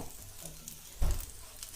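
Chicken for shawarma frying in a pan makes a short stretch of sizzle, with one dull knock from the pan or spoon midway.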